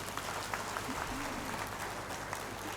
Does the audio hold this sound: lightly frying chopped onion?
no